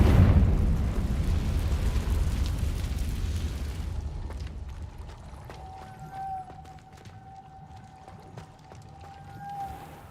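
A heavy fiery blast from the Confringo spell in Hogwarts Legacy opens loud and booming, then rumbles away into a fading crackle with a faint lingering tone.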